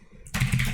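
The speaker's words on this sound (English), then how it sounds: "You just typed." Keys on a computer keyboard clack in a quick burst after a brief near-silent moment, a short close cluster of keystrokes.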